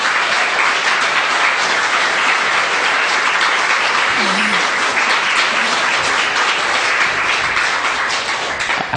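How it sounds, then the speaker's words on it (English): An audience gives a big, sustained round of applause welcoming a singer-songwriter, loud continuous clapping that stays even throughout, with a brief voice underneath. "Please give a big round of applause for singer-songwriter Mr."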